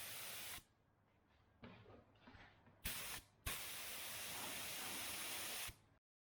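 Bursts of spray gun hiss as 2K clear coat is sprayed onto a meranti wood workbench, several passes separated by short pauses, with one long continuous spray at the end.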